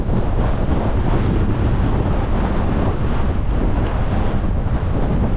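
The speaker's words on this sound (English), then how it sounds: "This is the strongest wind I've experienced on the trail." Strong, gusty wind on the Pacific Crest Trail roars loudly and steadily into the microphone, a dense buffeting rush with no voices.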